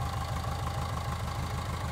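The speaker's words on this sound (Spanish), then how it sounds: "Ya que lo encendí, pues les voy a compartir su motorcito funcionando." A Volkswagen Beetle (vocho) engine idles steadily with its original-style exhaust, a smooth, even low pulsing that never revs up.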